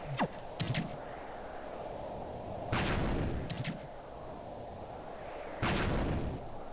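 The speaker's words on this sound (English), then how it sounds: "Needles tosses mines into the air that explode." Mines tossed by the Needles enemy burst in Castlevania: Aria of Sorrow, giving three loud, sharp game explosions spaced a few seconds apart, with quicker crackling pops between them over a steady background tone.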